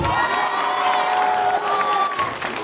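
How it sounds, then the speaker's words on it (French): An audience at the opening of Norapolis claps and cheers, with shouts over continuous, fairly loud applause. "Vous pouvez applaudir."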